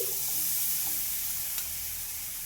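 Jaggery being stirred in a pan while making a coconut filling for a sago sweet, a soft steady scraping and low sizzle, faint and continuous with no voices.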